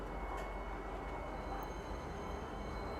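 A video game train rolls through a city, a steady, loud rumble with a low mechanical drone that holds evenly from start to finish.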